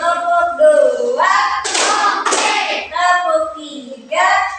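In a classroom ice-breaker, a few sharp bursts of hand claps ring out in a counted rhythm between a teacher's sung spoken phrases, close and clear.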